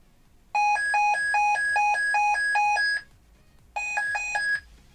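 LED toolbag cable tracer in scan mode gives a loud electronic warble, rapid alternating two-tone beeps in a long burst, a short gap, then another burst.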